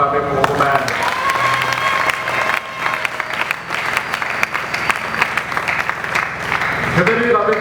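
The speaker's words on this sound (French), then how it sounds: "est-ce que vous pouvez acclamer pour vous-même?" A church congregation at a Sunday service applauds loudly and continuously, with scattered cheers and voices mixed into the clapping throughout.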